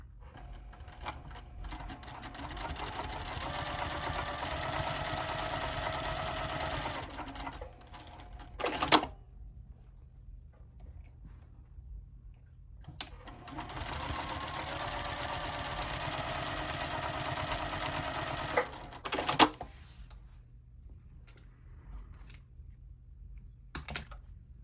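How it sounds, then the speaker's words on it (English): A sewing machine top stitching along the long edges of a fabric bag runs in two long steady bursts, each ending with brief clicks and handling noise, with quiet pauses between. "I'm going to top stitch 1/8 of an inch down both long edges"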